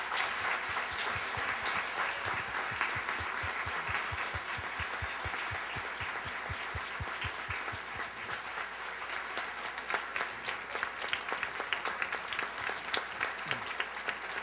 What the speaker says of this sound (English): Now give them a big round of applause.